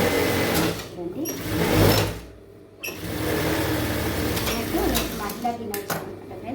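A sewing machine runs close up while stitching a dress lining, a fast steady whir that pauses briefly midway and then resumes at an even pace.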